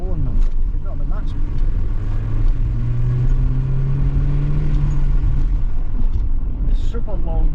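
Vauxhall Vectra B GLS 1.8 16V driving, an early example of the model with long gearing: a loud, steady engine and road rumble with a rising tone partway through, with someone talking over it.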